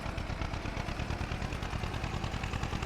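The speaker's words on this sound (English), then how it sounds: "Easy for the tractor." A tractor engine in Farming Simulator drones steadily with a low rumble and a faint rhythmic pulse, holding an even level throughout with no voices.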